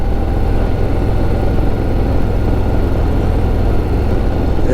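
A 2026 Harley-Davidson Road Glide with a 117 engine runs with a loud, continuous low rumble. Its deep, steady throb carries through the whole stretch and no voice is heard.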